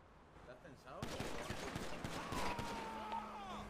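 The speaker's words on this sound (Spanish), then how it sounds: "Se escuchan disparos en la trastienda, mando." Gunfire erupts in a Spanish-language roleplay video game, a dense burst of rapid shots and bangs that keeps going through the clip over steady background noise, with a whistling tone near the end.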